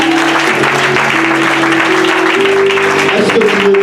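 A church congregation claps steadily and loudly throughout, a dense continuous wash of applause under a sustained droning tone, with no break in the clapping.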